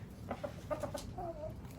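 An Araucana hen clucks softly in a quick series of short, throaty notes, fairly close but quiet, over faint background noise.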